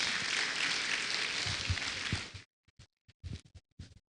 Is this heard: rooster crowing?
no